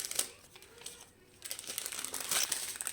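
Plastic packets of round diamond painting drills are handled and unwrapped, close crinkling and rustling with small rattles, pausing briefly before continuing in dense crackly bursts.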